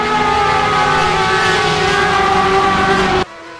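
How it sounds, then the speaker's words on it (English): Porsche GTE race cars in a racing video game let out a loud, sustained engine roar. It holds a steady pitch and then drops sharply to a quieter hum near the end. "Look at the sound of those Porsches. They are, in fact, the loudest cars on the GTE, the Le Mans GTE class."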